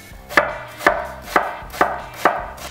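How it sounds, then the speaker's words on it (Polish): A knife chops ingredients into small cubes on a board, five firm evenly spaced strikes at a quick steady rhythm, close and clear with no talk. "Teraz w tempie kroimy w małą kosteczkę."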